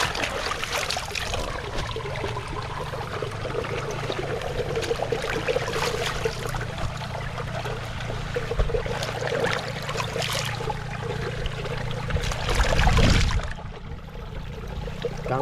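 Harvested vegetables, including kangkong, mustard greens and pechay, are rinsed under clean running mountain water, a steady broadband trickle and splash throughout with a brief louder surge of pouring near the end.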